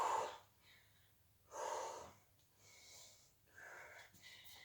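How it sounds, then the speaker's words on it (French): Hard breathing out during a squat workout, a few forceful, close exhales in a slow rhythm separated by quieter breaths. "Allez, tu continues, tu souffles bien."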